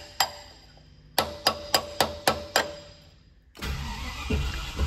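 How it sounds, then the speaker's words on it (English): A Land Rover Discovery starter motor cranking after a hammer tap: a single click, then a rapid series of about six sharp knocks, followed by a louder, sustained churning crank close to the microphone. "And the starter does work again now."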